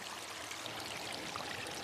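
A small, clean spring-fed brook trickles and babbles softly and steadily, a faint, continuous wash of running water with no voices.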